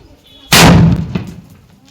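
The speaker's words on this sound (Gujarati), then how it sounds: "કાનમાં તમ થવા મળ્યું એટલો બોમ્બ અવાજ આવ્યો." A large firecracker bomb set off outdoors at a birthday celebration bursts in one sudden, very loud blast, its booming echo rolling away over the next second.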